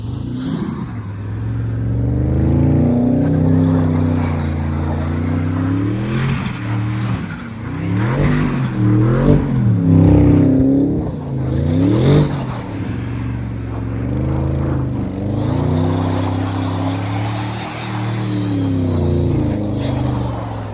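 An Audi RS6 Performance driven hard and sideways through donuts in a snowy empty parking lot, its engine revving loudly and rising and falling in pitch, with brief tire noise under the sustained roar.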